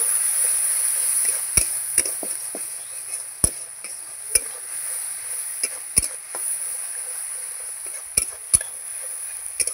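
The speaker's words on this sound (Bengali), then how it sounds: "এই যে একটু হলুদ দিয়ে দিচ্ছি, লবণ দেব, নাড়াচাড়া করে নেব" Spice masala with turmeric and salt being stirred in a pan for a fish head dish, sharp scattered scrapes and taps of a spoon against the pan over a faint steady sizzle, close and irregular.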